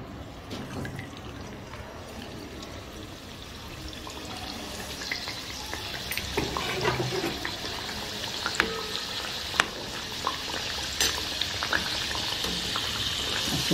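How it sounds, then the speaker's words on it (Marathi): Pea-filled karanji pastries frying in hot oil: a continuous crackling sizzle that grows busier and louder partway through, with scattered sharper pops and small splashes. "तेल पण छान गरम झालेलं आहे. आपण आता तळून घेऊ."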